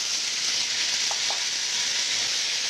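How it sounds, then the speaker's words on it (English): Onions, carrots and celery cooking with butternut squash, salt and pepper sizzle in a soup pot, a steady close hiss running throughout with a couple of faint stirring taps partway through. "Just stir it around for about 5 minutes or so"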